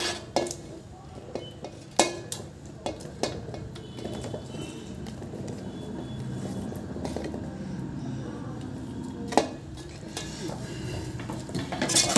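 Eggs going into a pot of gongura egg curry, with clinks of a utensil against the pot and soft stirring and scraping in a quiet home kitchen, a few sharper knocks standing out, and no talk.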